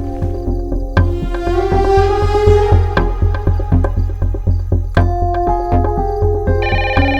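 A phone keeps ringing with a melodic ringtone, loud and steady, repeating a beat-driven musical pattern for several seconds with no talk over it.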